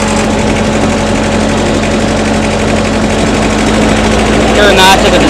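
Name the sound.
McCloskey ST80 stacker engine revving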